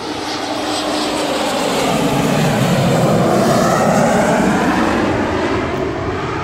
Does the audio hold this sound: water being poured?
no